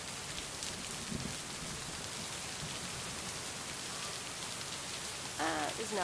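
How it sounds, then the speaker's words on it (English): Steady rain pours on surfaces in a video game, a dense even hiss throughout with a faint low rumble near the start; no clear thunderclap stands out. "Kind of hard to hear you over the thunder."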